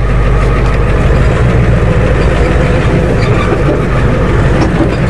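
A tired Ford F250 diesel truck engine idles after a pull start, a loud, steady, low rumbling clatter that runs without a break from start to finish, close by and with no voices.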